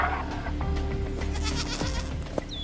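Mountain goats bleat on a rocky cliff face: a few short, wavering calls rise over a dense, constant outdoor background and stay moderately loud.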